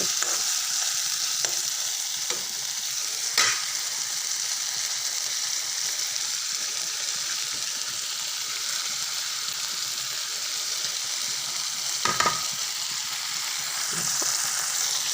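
Onions with salt and turmeric frying in a pan, a steady bright sizzle throughout with a few sharp spatters and stirring clatters near the start and around the twelfth second; no one talks.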